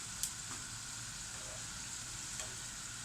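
Pişi dough fries in hot oil with a steady, soft sizzle and occasional faint pops, quiet and unbroken with no voices.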